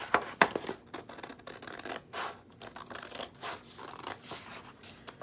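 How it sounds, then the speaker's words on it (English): Scissors snip and scrape through paper while a small picture is cut out for a handmade card, irregular close crunching cuts with brief pauses between them. "let me just go ahead and cut this out"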